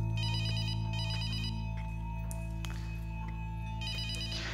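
A mobile phone rings with a repeating electronic ringtone in bursts over a steady low hum indoors, loud and close, with no talking.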